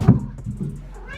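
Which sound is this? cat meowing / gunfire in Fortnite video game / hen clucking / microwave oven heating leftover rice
cat meowing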